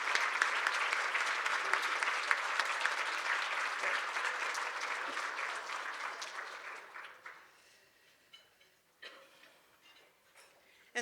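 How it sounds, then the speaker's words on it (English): Audience applause for event sponsors standing in a hall, a dense sustained clapping that fades out after about seven seconds, leaving a few scattered claps and faint room noise. "give them a big round of applause for their support"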